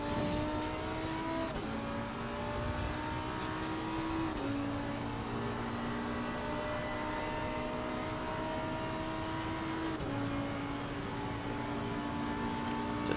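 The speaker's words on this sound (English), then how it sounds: "Just letting everyone listen to the absolute crazy sound that this car can make." Race car engine in Assetto Corsa Competizione on the Monza circuit, a loud sustained whine holding steady pitch with several abrupt drops as gears shift, continuous throughout with no talk.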